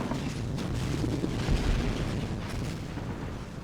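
Called-in artillery fire in the video game Army Men of War, a dense continuous low rumble of distant booms and blasts rolling together, swelling slightly in the middle.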